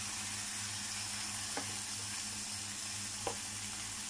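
Vegetables frying in a pan with meatballs, giving a steady close hiss and sizzle with a couple of brief stirring knocks, no talking.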